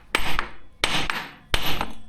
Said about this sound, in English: he got out the bad day hammer